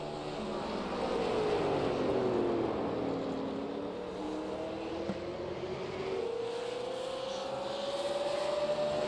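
Race car engines in a stock car racing video game, a late model series race at North Wilkesboro Speedway, roar steadily as several engines drone and sweep up and down in pitch without a break, with no talking.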